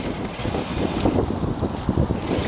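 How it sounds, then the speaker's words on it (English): Strong outdoor wind buffets the microphone with a steady, loud rumbling roar on a sunny day out trailing an RC truck, with no one speaking. "It's awfully windy today."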